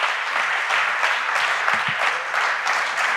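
Sustained, dense applause from a large audience at a public awareness talk on the pursuit of happiness, steady and loud throughout with no speech over it.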